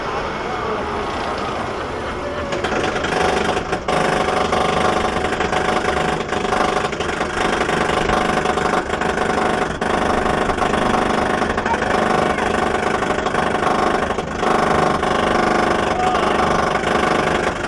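Steel Eel, a steel roller coaster at SeaWorld San Antonio, ridden from row 16: a loud, steady roar and rumble of the train on the track builds quickly and holds for the whole ride, with indistinct voices mixed in.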